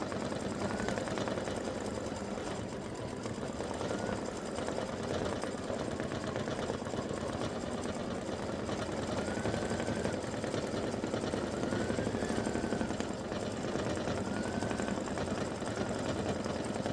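Embroidery machine stitching a Thanksgiving turkey design in silver thread, a fast, continuous mechanical whir and needle rattle, steady and close throughout with no speech.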